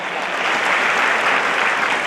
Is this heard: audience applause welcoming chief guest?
yes